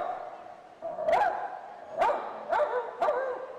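A person mimicking a dog, producing four short barking yelps in quick succession over a steady background hum, fairly close and moderately loud.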